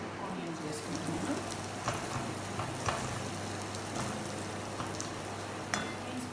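Onions and cumin seeds fry in hot butter with a little salt, a steady close sizzle with faint crackles and occasional stirring clicks under a woman's speech.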